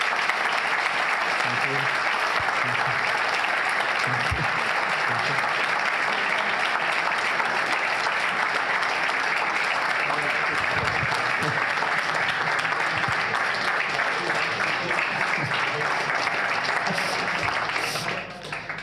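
Long, sustained audience applause from a large crowd at an education event, steady dense clapping throughout, with a voice briefly speaking over it before it tapers at the end.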